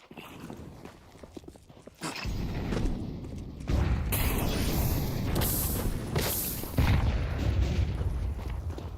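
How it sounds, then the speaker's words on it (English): Flashbang grenades go off during a four-man push toward B main in a competitive Counter-Strike match, heavy blasts and bursts layered over continuous gunfire and footsteps, loud and dense throughout. "Heavy flashbangs in towards B main"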